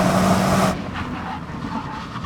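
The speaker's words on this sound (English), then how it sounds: "Go up and down the runway and put some heat in the tyres by braking." A performance estate car drives along a runway, braking to heat its tyres; a loud engine roar cuts off abruptly and gives way to a quieter, fading rumble of the car rolling on.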